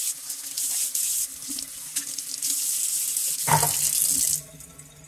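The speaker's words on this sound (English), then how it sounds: "I'm going to go ahead and wash that little yellow dish right now" Kitchen tap running into a sink while a small yellow dish is washed, a steady close rush of water with splashy shifts as the dish moves under the stream before the flow cuts off.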